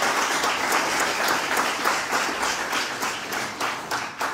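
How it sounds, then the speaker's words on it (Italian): Lively audience applause at an award ceremony for young local achievers in Pomigliano d'Arco, Italy, with rhythmic, fairly close clapping pulsing steadily throughout and no talking over it. "facciamo un applauso"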